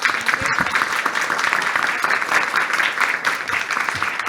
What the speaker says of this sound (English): Another round of applause for our panellists.